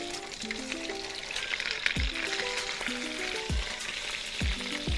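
Chicken pieces sizzle and fry in hot oil for a Filipino chicken hamonado, a steady crackling hiss broken by a few sharp clatters of utensil against pan.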